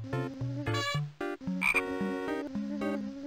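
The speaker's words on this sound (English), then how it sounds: "There's this frog living in his house." A cartoon frog croaks repeatedly in the Putt-Putt video game, loud close croaks over a bouncy musical backing, with no speech.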